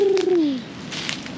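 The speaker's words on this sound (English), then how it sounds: "Ooh, I can hear you. It's like The pigeon, PNG pigeon." A Papua New Guinea pigeon gives a single deep, drawn-out coo that slides downward, close and fairly loud, followed by faint rustling in a forest setting on a remote island in the Louisiades.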